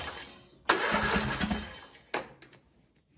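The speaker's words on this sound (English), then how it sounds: "Hopefully it'll make the starter turn in the correct direction." A Briggs engine on a Craftsman DLS3500 riding mower cranks on its electric starter in two loud, close bursts, the first about a second and a half long and the second shorter, with quiet between them.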